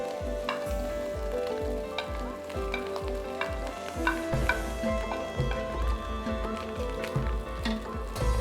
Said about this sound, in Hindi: राइस ऐड करके इनको अच्छे से मिक्स कर लेंगे।